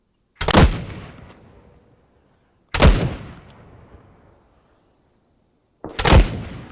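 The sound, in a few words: mortar shells being fired in video game ARMA 3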